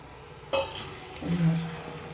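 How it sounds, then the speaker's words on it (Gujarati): A utensil stirs roasted gram flour into fenugreek leaves in a pan, with a sharp scrape followed by a short clink of metal and a soft scraping sweep, all close. "થોડી વાર આપણે આવી રીતે મિક્સર કરશું"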